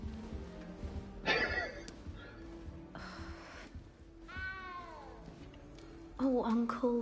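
A cat meowing inside the Hogwarts Legacy game world, several drawn-out rising and falling meows amid game effects and character voices, with talk around it.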